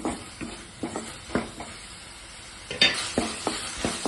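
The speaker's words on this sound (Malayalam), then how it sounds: "വെളിച്ചെണ്ണ വെച്ചു വെണ്ടയ്ക്ക വഴറ്റണം" Okra sautéing in coconut oil, a soft steady sizzle broken by repeated scraping and stirring strokes in a pan at an irregular rhythm, close and fairly quiet.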